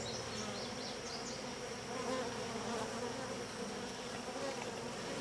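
Honeybees crowd over comb in a hybrid beehive, a dense, steady buzzing drone from many insects close by that holds evenly throughout with no voices.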